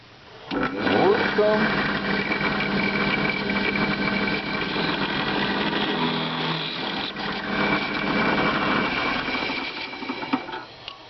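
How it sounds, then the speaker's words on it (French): An electric drill bores a small hole in sheet metal using a special sheet-metal bit, a loud steady whine with grinding bite that runs for about ten seconds and trails off at the end. "ici dans ma perceuse. Voilà, c'est monté. Allons-y, nous allons donc faire un petit trou."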